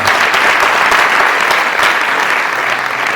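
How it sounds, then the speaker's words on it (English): Enthusiastic crowd applause at a convention all-hands meeting, dense steady clapping from many hands at close range, holding level throughout with no voices over it. "Let's give big round of applause"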